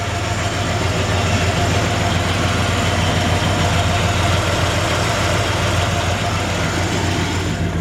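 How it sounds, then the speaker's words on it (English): A 1966 Chevy C10 long-bed pickup idles with its classic exhaust, a steady, even rumble that is close, moderately loud and unbroken for the whole stretch, with no talking over it. "Great sounding exhaust, you know, just a classic. Not too loud."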